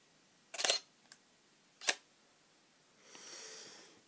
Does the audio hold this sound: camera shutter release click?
yes